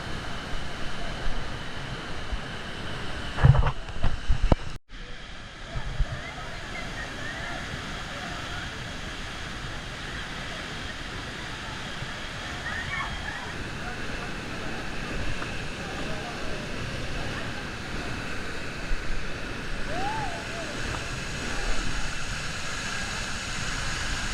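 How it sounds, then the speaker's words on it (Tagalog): Steady, loud rushing water roars throughout, a broad continuous wash of Ditumabo Mother Falls in San Luis, Aurora, with a few brief knocks near the start. "Lakas ng tubig, oh! Hala, grabe ang lakas ng bagsak"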